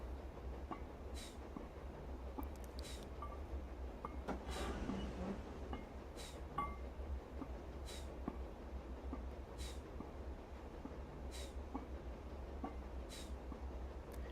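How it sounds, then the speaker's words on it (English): A steam locomotive on the Darjeeling Railway in Train Simulator Classic labors up a hill, a steady distant rumble of rail noise with faint chuffing and occasional clicks, continuous throughout with no talk. "I hear another steam engine working really hard in the background."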